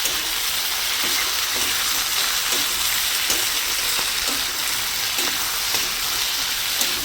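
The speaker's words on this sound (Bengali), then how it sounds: "দেখো আমার সবজিটা মোটামুটি ভাজা হয়ে গেছে" Mixed vegetables with a pinch of chilli powder fry in a pan, producing a dense, constant hiss like rain with faint periodic stirring taps underneath.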